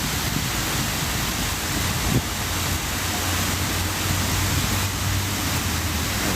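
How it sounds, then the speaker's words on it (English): Continuous rushing of falling water from a fountain in a Russian city, a dense, steady hiss without pauses, fairly loud and close. "I love the sound of falling water."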